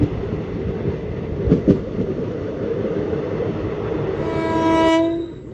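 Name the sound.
Udaipur City–Bikaner Express train passing, horn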